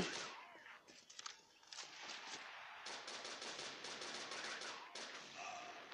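Rapid bursts of automatic gunfire from the online shooter Crossfire: Legends, dense and continuous with brief gaps, loud and close over a background of game effects.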